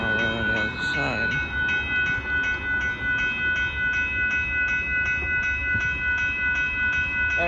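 Southbound Amtrak Texas Eagle 21 passenger train at a road crossing in Austin, Texas: a loud, close, sustained horn blast over a steady rumble and rhythmic wheel clatter as the train passes.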